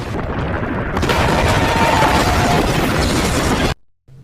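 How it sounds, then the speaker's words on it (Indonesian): A massive explosion roars as a dense, sustained blast that rumbles for several seconds, then cuts off abruptly into near silence. "bom itu pun meledak dan langsung menghancurkan seluruh area yang ada di sekitar gudang"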